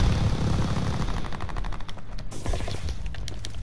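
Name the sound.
gunfire in the video game Call of Duty: Vanguard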